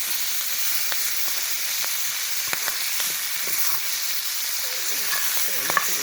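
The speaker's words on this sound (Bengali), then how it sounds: "আজকে পাঙ্গাস মাছ বোনা হবে, আগে একটু ভেজে নেওয়া হচ্ছে।" Pangas fish fries in hot oil, a continuous close sizzle broken by scattered pops and a few stirring clicks, fairly even in level with no talking.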